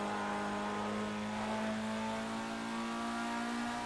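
A race car engine in the racing game Project CARS holds a steady, buzzing drone with strong harmonics, shifting slightly in pitch as the revs rise, continuous and unbroken with no voices.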